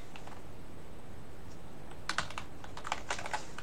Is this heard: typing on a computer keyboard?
yes